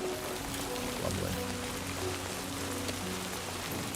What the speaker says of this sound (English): I wonder if this is rain and not time fall.